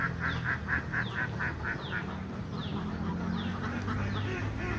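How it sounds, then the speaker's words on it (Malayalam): Ducks quacking near a paddy field, a rapid series of nasal quacks repeating at a steady pace, somewhat distant, over a low rumbling background hum. "താറാവിൻ്റെ കരച്ചിൽ നിങ്ങൾക്ക് കേൾക്കണുണ്ടോ?"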